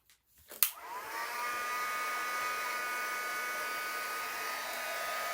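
A heat tool switches on after a few soft clicks and a sharp knock, then blows a steady, close, high whining roar while drying spritzed ink on a card, continuing without a break.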